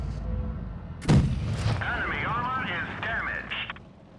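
A tank cannon fires once in World of Tanks Blitz on Nintendo Switch, a sharp boom followed by game sounds, with someone talking over it.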